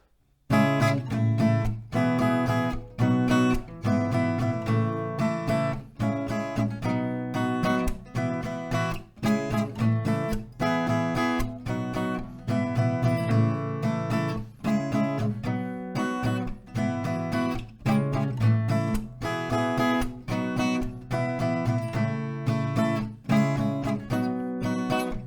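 A song's chorus played on acoustic guitar at normal tempo, with dense, driving rhythmic strumming that is close and loud throughout, and no voice.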